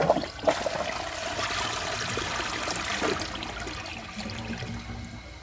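A Vortens Vienna toilet flushing with a dish towel in the bowl, a rushing surge of water with a sharp start that settles into a steady swirling drain and trickle, heard close and alone.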